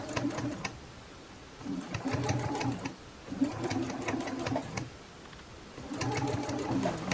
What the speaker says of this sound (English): Do you just hear how smooth that sounds? It sounds like butter. It sounds like the Beamer of sewing machines.